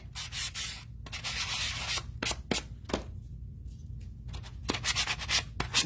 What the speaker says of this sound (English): Then I lightly sand.